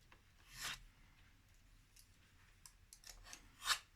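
A craft cutter knife slices through paper during scrapbook album making, giving two short scraping cuts about three seconds apart, close and fairly quiet, with faint rubbing in between and no talk.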